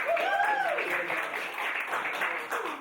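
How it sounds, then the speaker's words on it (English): Applause from a live audience at a design game show in the Arctic Bar, greeting a contestant: steady broadband clapping filling the whole stretch, with a voice talking over it near the start. "Another round of applause for our wonderful contestant"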